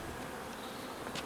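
Honeybees in an open urban hive's brood boxes, a steady quiet insect drone holding close and even through the short stretch with no talk.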